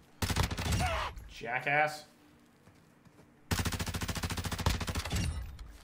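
Rapid automatic gunfire in a multiplayer shooter, two long bursts of dense rhythmic shots separated by a short quiet gap, with a brief spoken word between them.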